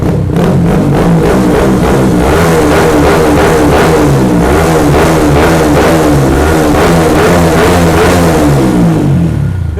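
A car engine fitted with an Aracer mini ECU runs loudly and steadily, revving up and down in repeated pulses close to the listener, with no talk over it.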